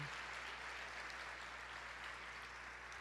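A church congregation claps together in sustained, even applause that stays faint and steady, with no voices over it.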